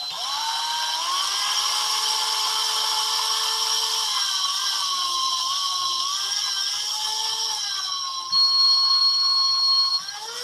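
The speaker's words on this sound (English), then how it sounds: "You don't have to drill all that deep." A small power drill bores into a miniature, giving a steady high-pitched whine with a slightly wavering pitch that runs unbroken for about ten seconds and grows briefly louder near the end, with no voices.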